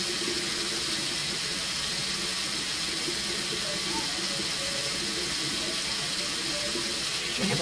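Tap water runs steadily into a bathroom sink during a night-time washing routine, a constant close splashing hiss that continues unbroken throughout.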